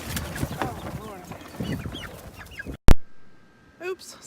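Backyard chickens cluck and squawk close by over gusty outdoor noise, a busy overlapping flock chatter, followed by a sharp knock and a lone cluck in near silence.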